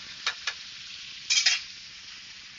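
Potatoes frying in a pan for Bangladeshi aloo bhaji, stirred now and then; a faint steady sizzle with two brief scraping strokes and then a longer stir.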